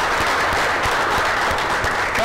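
Loud, dense applause rises from a crowd at a Thai competition ceremony as a champion is honored, sustained clapping filling the whole short moment without speech.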